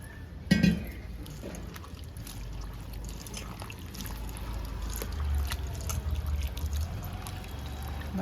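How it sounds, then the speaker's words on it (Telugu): Water poured over salted bitter gourd pieces in a bowl, making a soft, continuous trickle and splash after a brief knock near the start; no speech. "కాకరకాయలో ఉప్పు వేసుకొని ఇప్పుడు వాటర్ వేసుకుంటుంటా."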